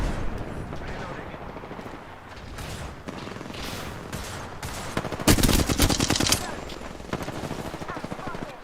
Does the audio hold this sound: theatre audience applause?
no